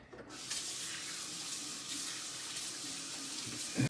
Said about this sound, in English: Now let me wash up again.